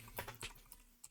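Short burst of typing on a computer keyboard, a handful of quick, uneven key clicks with a pause before a final tap, quiet and close with no talking.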